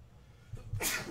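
A single short, close sneeze rising to a sharp burst at the end of a quiet moment.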